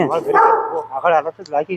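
A dog barks and yips several times in quick bursts, close by, with people talking over and around it.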